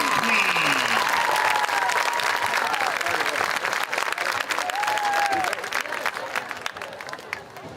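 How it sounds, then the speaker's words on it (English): Crowd applause and cheering at a high school football game for the 2020 Homecoming King and Queen, a loud, dense, sustained wash of clapping with crowd noise and an announcer's voice briefly over it, tapering slightly toward the end. "one more round of applause for Luke Huff and Chloe Hill, the 2020 Homecoming King Queen."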